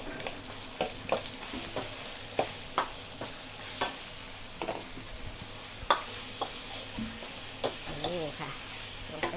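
Shrimp dropped into a very hot wok sizzle and fry with repeated sharp clatters of stirring and scraping, close and steady throughout with no talking.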